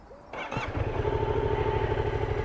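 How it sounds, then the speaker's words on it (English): A 700cc motorcycle engine cranks briefly and catches, then settles into a steady, even idle that holds loud and close after the start. "Just start it up so you can hear it."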